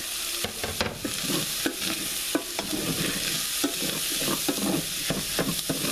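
Thin-sliced yellow gold potatoes frying in a pan, stirred steadily: a continuous sizzle with repeated scraping and clacking strokes of a utensil throughout, fairly close and alone.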